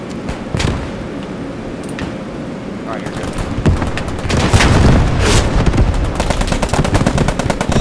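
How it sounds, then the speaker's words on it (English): Machine gun fire rattles from a building during a Normandy D-Day invasion in Squad 44, with dense rapid bursts, scattered single shots and booms at varying distances, growing heavier toward the end while a player talks over it. "that's like an MG in that building or some shit"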